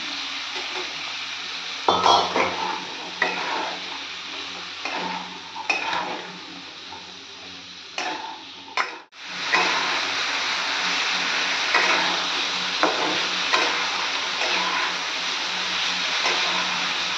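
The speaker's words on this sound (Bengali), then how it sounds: "আলুটা ভাজা হয়ে গেছে, আমি অল্প ভেজেছি হালকা করে।" Cut potatoes fry lightly in a pan, a sustained sizzle punctuated by repeated scraping stirs and utensil knocks, with a brief break midway before a louder, steadier sizzle returns.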